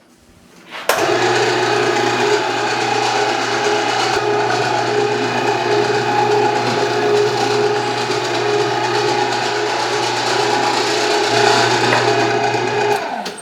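A mixer motor hums and churns sausage meat steadily for about twelve seconds after switching on, loud and constant, then winds down at the end.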